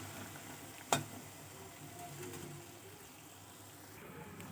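Badusha fries in hot oil with a soft, steady sizzle and bubbling, broken by one sharp clink near the start.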